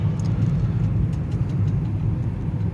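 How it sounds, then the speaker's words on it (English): Lumber trucks and other traffic on a winding rural road in Amish country in winter, with a steady low engine rumble rolling past nearby for a few seconds. "We got some truck traffic here."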